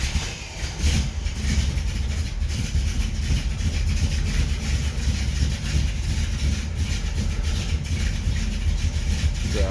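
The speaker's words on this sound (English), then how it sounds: "So it sounds like it's got a decent sized cam in it. It's a fun little runner." 1964 Pontiac GTO V8 with a decent-sized cam idling, a loud, continuous lumpy rumble with an uneven chop, heard close and steady with no talk.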